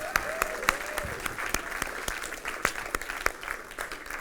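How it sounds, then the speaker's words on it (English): A small audience at a teamwork event claps in a loose round of applause, with sharp, separate hand claps popping out over a softer bed of scattered clapping at moderate distance. "Can we give them a round of applause?"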